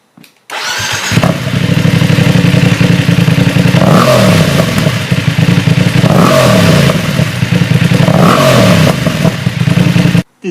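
Loud BMW F750GS/F850GS motorcycle engine with an unmuffled Tioli exhaust, idling with a rough, throaty clatter and blipped through three sharp revs that rise and fall, close up with no talking.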